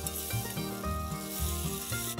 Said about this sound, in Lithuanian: Pamaišydami šiek tiek parudavo svogūnai, suminkštėjo, gražiname mėsą ir sudedam papriką.